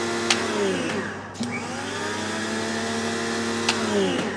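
An AVA pressure washer runs with a steady, close motor whine and hum, broken by a few sharp clicks.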